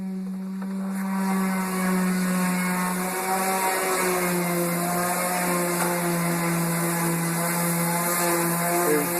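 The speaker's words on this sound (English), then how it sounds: "sanding out all the original home ridges in the wood. He's sanding them down smooth right now." A power sander works steadily on wood trim during a house renovation, smoothing out old ridges with a continuous whirring, humming drone that stays loud and even throughout, with no talk.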